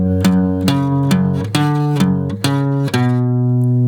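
Electric guitar playing a short 1980s rock riff, a string of bright picked notes and chord stabs ending on a sustained ringing chord. Loud and close, with no talking.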